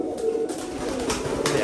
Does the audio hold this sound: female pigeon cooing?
yes